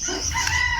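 Brahma chickens in a backyard cluck and crow, a short, close, loud burst of fowl calls with no talk.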